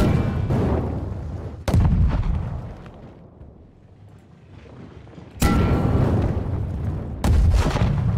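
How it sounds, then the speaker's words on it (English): Heavy cannon blasts in the medieval battle game Conqueror's Blade, three loud booming shots with long rumbling decays, the quieter stretch between them filled with distant battlefield noise. "I'm gonna hop on a cannon."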